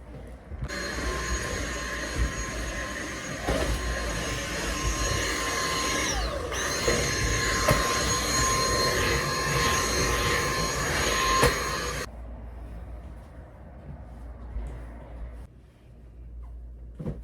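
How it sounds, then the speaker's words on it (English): A vacuum cleaner runs steadily with a loud, even whine for about twelve seconds before switching off, leaving quieter background noise. "Let me get the vacuum and let's get started."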